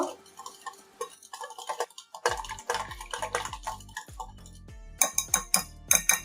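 Biscuit dough mixed in a bowl with a pinch of salt, heard as quick rhythmic clicks and scrapes of a utensil against the bowl, with bursts of clinking and short pauses between strokes.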